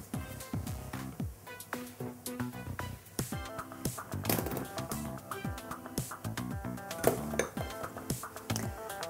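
Utensils clink and scrape against a mixing bowl as sifted flour is folded into biscuit batter with a spatula or spoon for homemade ladyfinger biscuits, a busy run of close, irregular clatter and taps with no talking.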